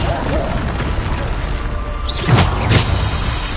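A Bombarda spell explosion from Hogwarts Legacy gives two sharp, loud booming bursts near the end, set against steady game ambience and music.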